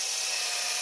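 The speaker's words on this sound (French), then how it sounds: "on va poncer tout ça" Brake parts from a 1990 phase 2 Peugeot 309 GTI being sanded, a steady, dense abrasive hiss that runs unbroken and fairly close, with no pauses and no talking.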